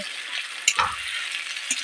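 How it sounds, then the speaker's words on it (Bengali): Fish curry with ginger cooks in a wok with a soft, constant sizzle, and one brief scrape of a spoon against the pan partway through. "দিয়ে আমি কড়াই করে নাড়বো"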